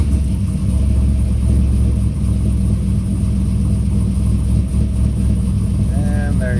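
Chevrolet Colorado with a 500hp LS swap engine running, a loud, deep, steady idle rumble close by, with a brief voice near the end.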